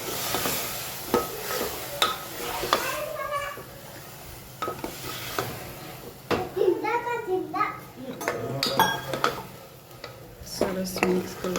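A spoon stirs basmati rice and moong dal khichdi in a pot. Repeated scraping strokes come close and irregular under soft frying sizzle, while a child and an adult talk intermittently.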